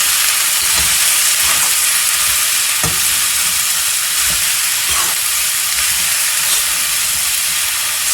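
Vegetables for a pulao stirred in a hot pan, a steady loud sizzle of frying throughout with soft scraping strokes of the spoon at irregular intervals, close and with no talking.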